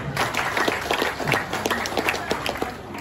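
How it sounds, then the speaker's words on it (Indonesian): A crowd claps warmly and steadily at a Jembrana regency ceremony marking the 57th anniversary of St. Petrus Catholic Church in Negara, Bali, with dense, sustained applause filling the hall. "Tepuk tangan untuk Jemberana."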